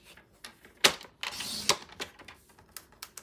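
Cardstock panels for greeting cards are cut on a paper trimmer, with two sharp slicing swipes close by and soft taps and handling clicks between them in a quiet room.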